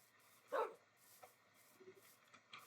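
A dog in the video game Minecraft lets out a single short, bright bark, followed by a few faint yips and whimpers, quiet and alone with the game music switched off.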